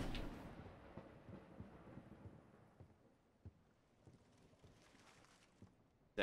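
Faint, distant thunder rolling under steady rain in the video game Paint Over, with scattered soft thumps and drops through a quiet stormy ambience.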